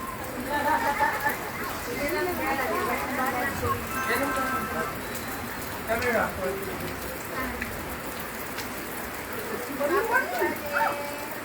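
Steady rainfall patters on a surface throughout while several people talk nearby, their voices rising over the constant hiss.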